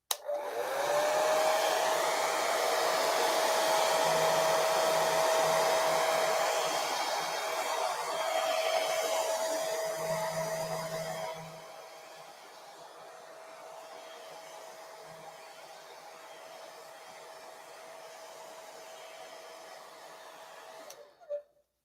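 A hair dryer blows steadily on gold leaf applied to a bottle, a loud broadband whoosh with a constant whine that drops to a lower setting halfway through and then cuts off.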